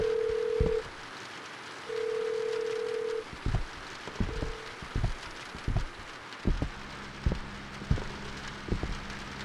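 An old telephone rings in the horror video game In the Facade We Trust, two long tonal rings and a shorter one, followed by a series of sharp knocking thuds with steady rain-like hiss underneath.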